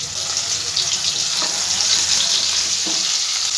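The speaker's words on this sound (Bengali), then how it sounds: "আলুগুলো আমি একটু লাল লাল করে ভেজে নেব।" Potatoes fry in a pan with a loud, close, continuous sizzle and crackle, with a couple of faint stirring scrapes and no voices.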